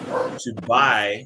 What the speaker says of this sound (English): That's my dog. I'm knocking on my table and she thinks someone's at the door.